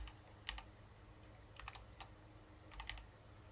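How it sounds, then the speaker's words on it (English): Keyboard typing in three short bursts of clicky keystrokes, close by and fairly quiet, with pauses between bursts and no talking. "This keyboard is so loud."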